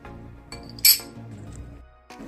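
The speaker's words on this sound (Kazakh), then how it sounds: "Қайнаған су құйып, содан кейін осыған бір қасық тұз саласыз." A metal spoon clinks against a glass while salt is stirred into boiled water, one sharp bright ring near the start, softer taps and a final clink at the end, heard up close without speech.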